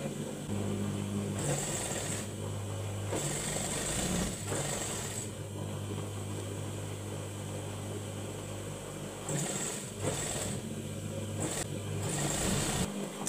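An electric sewing machine stitches a dress seam in several short runs, its motor whirring steadily with brief pauses between bursts over a constant low hum.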